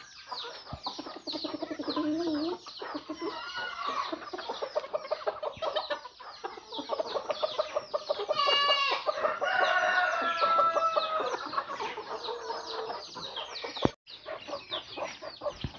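Black and silver Cochin chickens clucking close by in busy, overlapping bursts, with a rooster crowing partway through among the flock chatter.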